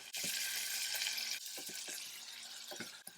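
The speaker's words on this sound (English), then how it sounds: "Now we put some tomatoes in there. Let the tomato cook for maybe a couple of minutes." Tomatoes cooking in a pan with ginger and garlic for spicy Indian butter lentils, a bright hissing sizzle broken by several stirring knocks and scrapes, with no speech.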